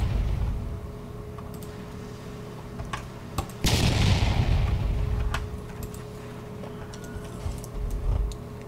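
Ship turret firing in Roblox Battleship Battle: scattered sharp shots over a steady low engine-like drone, with one heavier blast and a lingering rumble near the middle, and more faint pops after it.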